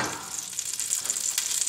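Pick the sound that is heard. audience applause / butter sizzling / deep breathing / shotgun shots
butter sizzling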